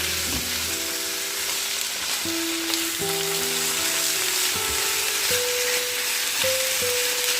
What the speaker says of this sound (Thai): ผัดเลยนะคะ ผัดให้เขาสุก